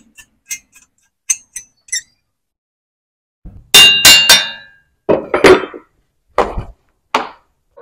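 A rawl bolt is tightened for a split inverter AC outdoor unit bracket, producing sharp metallic clicks and ratcheting clanks in irregular bursts, with louder grinding clusters in the middle and spaced taps after.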